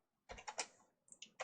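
Quiet computer keyboard typing, a handful of soft keystrokes in a short uneven burst, then a pause and a few more taps, close and alone without speech.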